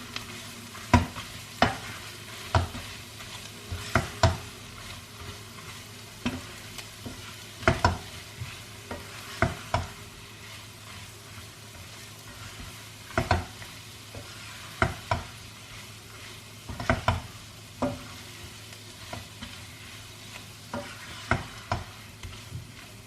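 Spinach and minced meat stirred in a pan, with repeated sharp scraping strokes of a spoon at an irregular rhythm over a soft, steady sizzle.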